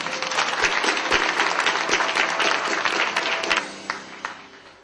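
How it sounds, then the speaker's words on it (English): Audience applause for winners at a 2008 Asian Pacific business champions award ceremony, dense steady clapping from a large crowd that thins and fades out near the end. "Let's give all our winners a big warm round of applause."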